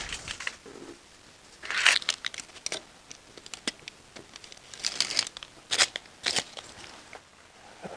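Tinfoil lining for a homemade Christmas tea light holder is crinkled and trimmed, giving irregular crisp rustles and crackles in short bursts, close and moderately loud, with quiet gaps between handling.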